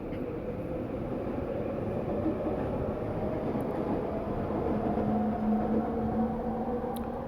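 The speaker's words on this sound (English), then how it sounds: "Sorry, trains again." Train rumbling steadily past at close range, a continuous low roar with a faint rising tone near the end, no voices over it.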